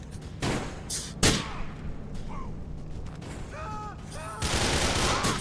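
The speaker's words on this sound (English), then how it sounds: "The spread on those shotguns is insane" Shotgun blasts in Grand Theft Auto 4 biker gang shootout, a few sharp loud bursts spaced apart amid scattered gunfire and clatter, with a voice shouting briefly.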